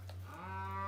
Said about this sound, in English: Sounds like I got some cows awfully close again.